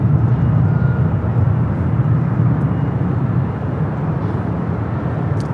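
A Delta Boeing 767-400ER airliner pushes back at LAX, giving a steady, loud low-frequency engine and ground-equipment rumble that holds even throughout with no talk.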